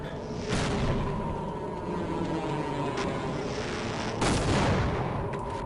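Rumbling blasts from an explosion in the video game Half-Life: Blue Shift, with two loud broadband bursts about four seconds apart over a steady background roar of game noise, no voices.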